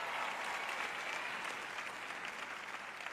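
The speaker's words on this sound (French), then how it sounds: "Je vous applaudis." A congregation at a Christian teaching event applauds in a dense, steady wash of clapping, even in level throughout and without speech.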